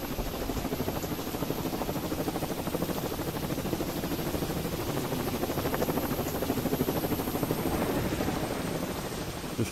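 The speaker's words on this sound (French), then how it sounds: "Un hélico qui arrive." Helicopter landing in the survival video game Xera Survival, its rotor chopping steadily and loudly throughout with a dense, continuous engine whine.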